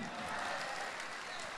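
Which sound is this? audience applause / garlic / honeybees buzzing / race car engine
audience applause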